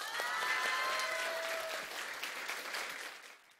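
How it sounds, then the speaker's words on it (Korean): High school audience in Yangpyeong clapping for a magician at a youth humanities concert: a strong burst of dense applause with a few whoops, gradually thinning and fading out at the end. "다시 한번 우리 문준호 마술사께 힘찬 박수를 좀 부탁드리겠습니다."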